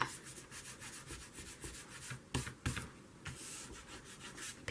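Glue being wiped off a junk journal cover, a soft, close rhythm of rubbing and scraping strokes with a few sharper scuffs, no voices.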